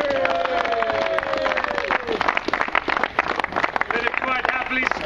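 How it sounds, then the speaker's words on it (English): A round of applause for the marshals at a race event presentation, dense crackling claps filling the space at steady loudness, with a voice speaking over the start and crowd noise underneath. "Guys, I'd like a massive round of applause for your marshals."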